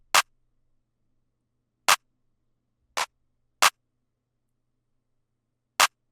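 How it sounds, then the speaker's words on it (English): Five sharp, dry drum machine claps spaced unevenly, each short and crisp against silence. "we have a clap that's going to sound like this"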